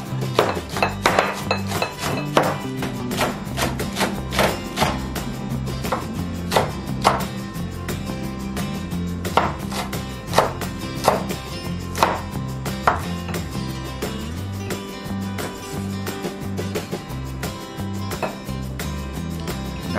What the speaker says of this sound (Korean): 대파는 쫑쫑쫑쫑 다져주세요.